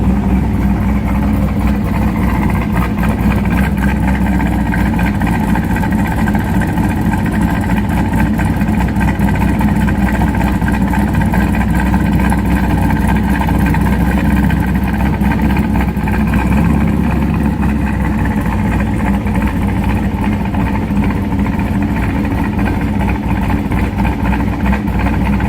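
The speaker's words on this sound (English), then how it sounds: "this is a before the X pipe sound clip of the idle with the BTR Stage 2 cam" A C5 Corvette V8 with a BTR Stage 2 cam and H-pipe exhaust idles steadily, a loud, close, continuous lumpy rumble with an even pulsing throb for the whole stretch.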